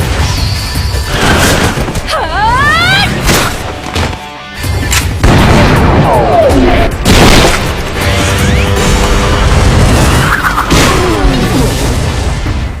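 Gunfire from the anime Highschool of the Dead as a team fights zombies: loud repeated shots and crashing impacts mixed with sweeping effects and background music, dense and continuous throughout.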